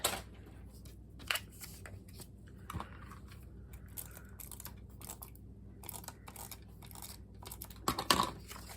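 Paper being trimmed for a page in an 8x8 scrapbook album: a few sharp scissor snips and crisp paper rustles spaced through a quiet room, with a louder cluster of cuts near the end.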